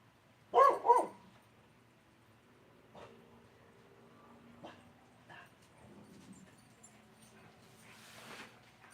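A dog gives two quick, sharp barks near the start, followed by quiet room sounds and faint movement.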